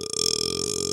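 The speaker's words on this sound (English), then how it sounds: "I'm gonna listen to you burping all game" A long, loud, droning burp rumbles continuously for about a second, close to the microphone over game voice chat, with no speech alongside.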